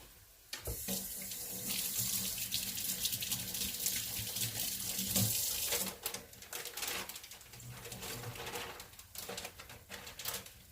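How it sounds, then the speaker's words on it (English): A kitchen tap runs steadily into a sink while hands are rinsed during meat-sauce cooking, with a loud, close rushing splash that shifts as the hands move under the stream. "Let me rinse my hands."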